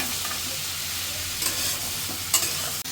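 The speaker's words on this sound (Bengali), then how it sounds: "এখন ভালো করে নেড়ে পুরো মিশিয়ে নিতেছি" Leafy greens being stirred in a frying pan give a steady, close sizzle with a few soft scraping accents as they are turned and mixed.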